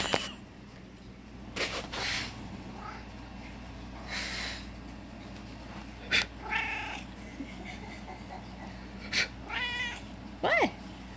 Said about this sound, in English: He meows every time we blow.